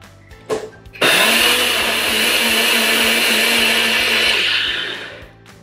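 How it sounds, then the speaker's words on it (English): Countertop blender mixing a milk smoothie: after a brief clatter, the motor kicks in and runs at a steady, loud, close whirring roar for about four seconds, then winds down. "And of course, you can use any milk you like."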